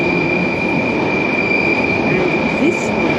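Train at a London Paddington station platform, loud and close, with a constant rumbling roll and a high sustained metallic wheel squeal throughout.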